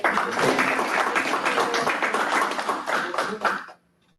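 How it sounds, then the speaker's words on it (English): Audience at a California State Board of Optometry meeting gives a burst of applause, dense and steady clapping for several seconds that stops abruptly into near silence. "So a round of applause for"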